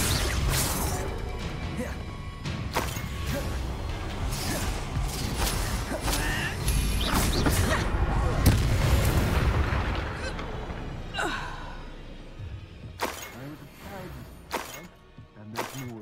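In the Hogwarts Legacy video game, Bombarda and Confringo spells set off explosive blasts, dense bursts and booms layered over game noise and music, then quieter sharp impacts near the end.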